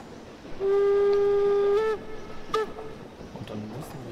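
Steam locomotive whistle on the Brockenbahn in Train Simulator Classic, one sustained shrill blast of over a second followed by a brief short toot, heard over low rumbling train noise.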